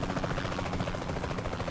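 Helicopter in the video game Saints Row The Third flying overhead, a loud, steady rotor drone with rapid chopping pulses that fills the short stretch without pause.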